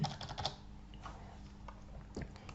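Typing on a computer keyboard: a quick run of light key clicks at the start, then a pause and a few more taps near the end, all fairly quiet and close.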